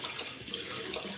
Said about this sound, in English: I have to pour it out in the sink.